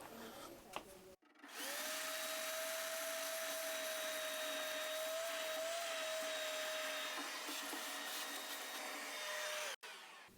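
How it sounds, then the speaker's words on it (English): A vacuum cleaner sucks dust out of a pellet stove hopper, starting abruptly after a second, holding a loud, steady whine for about eight seconds, then cutting off sharply. "you already seen me vacuum this out, so that got out all the dust"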